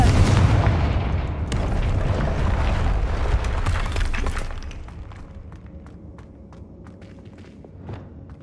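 Fiery Confringo spell blast from Hogwarts Legacy video game: a heavy booming burst with a rumbling tail that fades over several seconds, followed by scattered faint clicks and a soft thud near the end.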